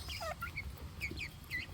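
Chickens cluck and chirp softly in short, repeated calls, several birds close by in a quiet coop with no talking.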